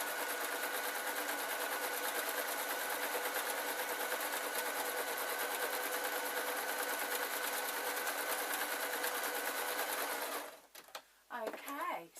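A sewing machine stitches a pillow case, whirring in a fast, steady, close buzz for about ten seconds before stopping, after which a person talks briefly.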